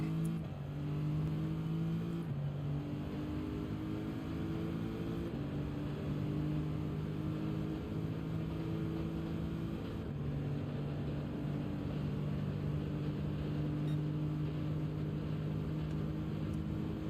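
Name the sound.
Lamborghini race car engine in Gran Turismo video game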